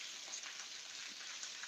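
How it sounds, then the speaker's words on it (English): Rain falling outside, a steady, faint hiss of drops pattering on a surface, with no voices. "you're going to hear a little bit of rain probably. It's raining up here."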